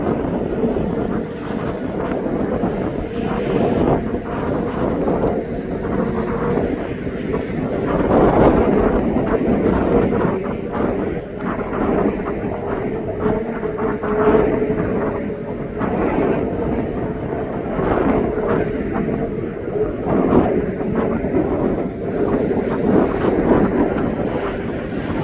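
A jet airliner taxis at East Midlands Airport, giving a steady, loud broadband rumble and roar that swells slightly at times and continues throughout with wind buffeting.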